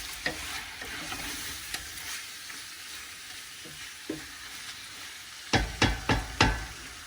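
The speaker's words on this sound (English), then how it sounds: "I'll just let that get up to temperature a little bit, start frying off" Goulash sizzling and frying in a hot pan, with a steady crackle underneath and several sharp scrapes and clinks of stirring that bunch together near the end; no voices.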